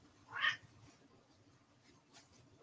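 A house cat named Lola, a big fluffy one, gives a single short meow near the start, moderately close, followed by a faint second squeak in an otherwise quiet room.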